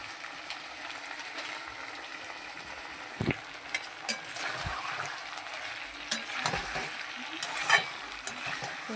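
Chicken pieces with chili powder stir-fried in a pan for a Bengali chicken and potato curry: a continuous quiet sizzle broken by intermittent scraping and clattering stirring strokes.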